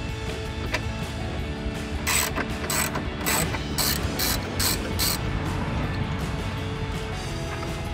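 A ratchet wrench works a grille bolt loose on a 2018–2020 Ford F-150, a burst of quick, loud, close metallic clicking strokes in an irregular rhythm over a constant background hum.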